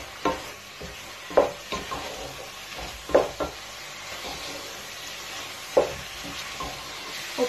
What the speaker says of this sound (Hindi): अच्छा, अब आप इनको अच्छी तरह मिक्स करें।